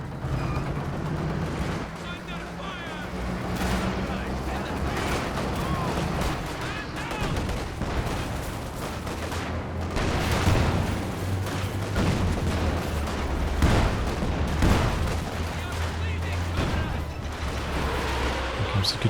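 Katyusha rocket artillery in Company of Heroes 2 lets loose a barrage: a dense run of loud booms and crackling bursts that swell and overlap over a rumbling battlefield, with talk over parts of it.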